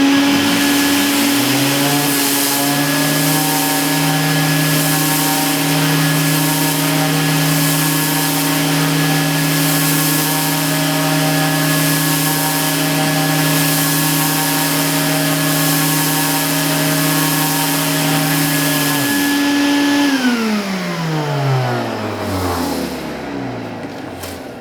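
A Vevor orbital sander fitted with 120 grit paper and a dust hookup runs loud and steady with a droning whine, then powers off and spins down near the end, with no talk.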